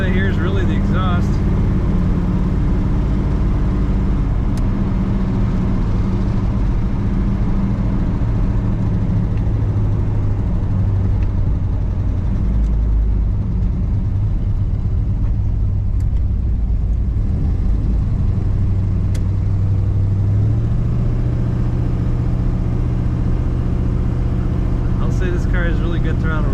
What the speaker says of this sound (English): Only noise I hear is really the exhaust.